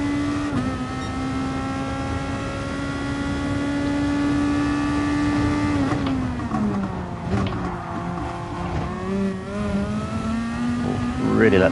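A race car engine in Gran Turismo Sport holds a steady droning pitch, then bogs down, its tone sagging lower and straining before climbing again near the end, with a voice talking over it.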